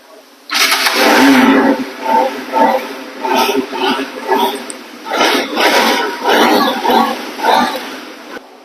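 A 2019 Bajaj Pulsar NS 200 motorcycle fires up close by and is revved repeatedly, its engine rising and falling in loud, throaty bursts of roughly one per second.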